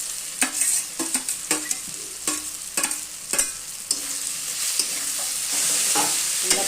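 Eggs frying and being stirred in a pan for Bengali dim jhura, with a steady sizzle and repeated sharp spatula scrapes and clinks at an irregular rhythm, close and fairly loud, no talking.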